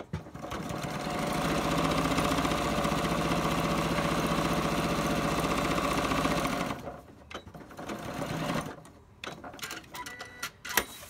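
A sewing machine stitches a straight seam on a cotton and PUL snack bag, whirring fast and steady for several seconds before it stops, followed by a few quiet handling clicks and rustles.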